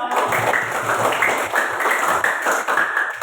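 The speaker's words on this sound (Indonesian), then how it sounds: "tepuk tangan untuk kelompok 2" Students in a classroom clap for a presenting group, a loose rhythmic patter of hands with audible individual claps, moderately loud and continuous.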